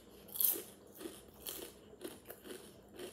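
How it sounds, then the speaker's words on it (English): Kettle chips crunch close to the microphone in a series of crisp, dry bites and chews, spaced irregularly and fairly quiet, with no talking. "What is that crunch?"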